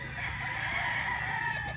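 A rooster at a game farm crows once in a clear, sustained call, fairly near and alone with no talk.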